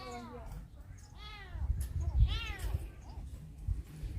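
A kitten meows repeatedly in a few clear, rising and falling calls, heard up close at a beach rest spot with low background rumble and wind between the cries.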